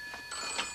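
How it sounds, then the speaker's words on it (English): A telephone bell rings in a short, bright, trilling burst indoors, faint and alone with no voices. "Does that mean you couldn't answer the blasted phone?"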